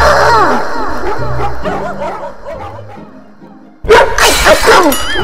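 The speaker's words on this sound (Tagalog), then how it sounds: "Yung aso nyo!" A dog yaps and whimpers in rapid, high, wavering bursts close by, then a sudden loud clatter and another burst of barking breaks in.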